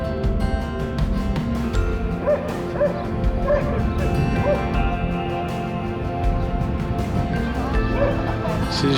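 Several dogs bark and yip in a Patagonian town near Torres del Paine, a loud, busy cluster of overlapping yelps and whimpers lasting throughout, with people talking in the background.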